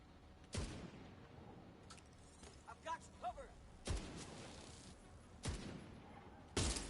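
Sniper turret gunfire in The Division, several sharp separate shots at irregular intervals over quiet background, with faint voices between them.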